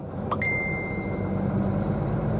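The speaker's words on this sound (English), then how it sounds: "Get a message on your phone." A short two-tone phone message notification ding inside a car on a motorway near Ancona, Italy, ringing out clearly over steady engine and road rumble.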